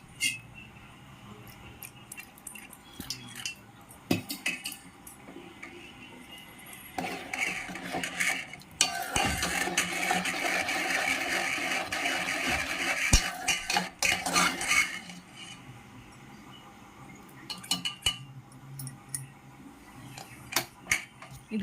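Curry nearly done in a pan on the stove, stirred with a spoon: scattered metallic clinks and scrapes, with a denser burst of clattering stirring in the middle, close by and without speech.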